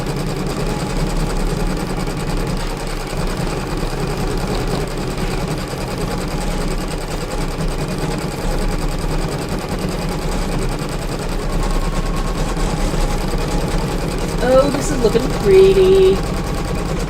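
A sewing machine working on an embroidered rope bowl runs continuously with an even mechanical whir, close and fairly loud, and a voice is faintly heard near the end.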